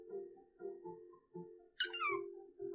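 Cat meows from the video game Kitten'd, a short sharp meow rising above a steady low synthetic drone, with a few softer tonal game sounds around it.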